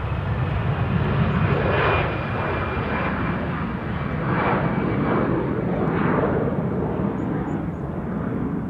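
A JetBlue jet airliner takes off at Amsterdam Schiphol, a loud continuous engine roar with a deep rumble and a thin whine that swells and fades in slow waves, heard alone at close range.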